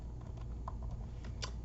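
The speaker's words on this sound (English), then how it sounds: "I still am having trouble typing my name." Typing on a computer keyboard while entering a name into a new file, heard as scattered soft clicks and taps at a quiet, steady level with no talking.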